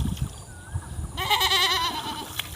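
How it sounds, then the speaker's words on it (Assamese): A white goat bleats in a wavering, drawn-out call at a village Goru Bihu cattle festival in Rangia, preceded by a short faint bleat and backed by outdoor crowd bustle and scattered voices. "বগা ছাগলী"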